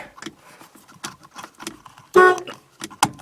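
A car horn wired into a FireBird racing steering wheel on an LS-swapped car gives one loud, short honk in a workshop, with fainter knocks and a brief second toot just after.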